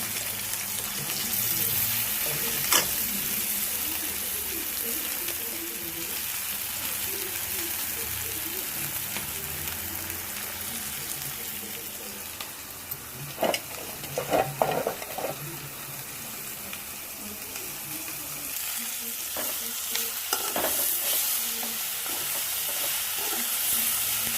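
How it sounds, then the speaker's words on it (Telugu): Drumstick leaves fry in a pan with onion, green chilli, ginger paste, salt and turmeric, giving a continuous sizzle and repeated stirring scrapes, with a few sharper clatters partway through. "ఇప్పుడు మునగాకు వేస్తున్నాను"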